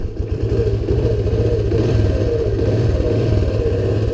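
A 1978 Honda XL175 motorcycle idles close by, its single-cylinder engine holding a steady, loud, even thump throughout with no speech over it.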